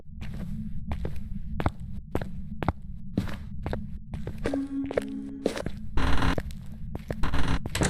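Footsteps in a ghost-hunting video game, picked up through a parabolic microphone, thud in a steady irregular series of sharp, close steps over a low constant hum, with brief clicks and crackles between them.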